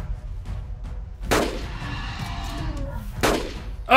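Two sharp gunshots from a hunting weapon in Carnivores: Dinosaur Hunter Reborn ring out roughly two seconds apart, each with a short rumbling tail, over low ambient noise; a third blast starts right at the end.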